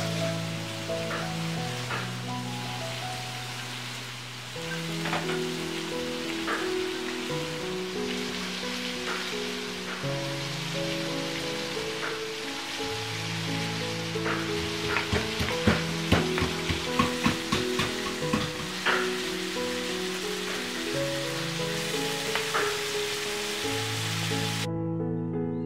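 Prawns frying in a pan give a steady, close sizzle with crackling pops that stay continuous under background music throughout.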